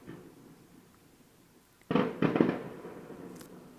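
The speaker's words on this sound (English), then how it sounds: "Seen like 100 fireworks now. One after the other." Fireworks burst over Portsmouth in a quick cluster of booming cracks, moderately distant, rising out of a quiet crowd hum.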